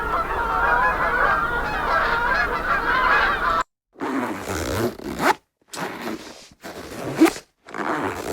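The zip on a bass guitar gig bag is pulled in four or five short, close, rasping strokes with brief silent gaps between them. Loud goose honking plays just before the zipping starts.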